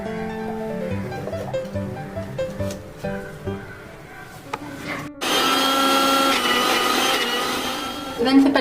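Mixer grinder grinding chana dal with green chillies and ginger: a loud, steady whirring roar begins about five seconds in and runs to the end, after quieter kitchen clatter and handling.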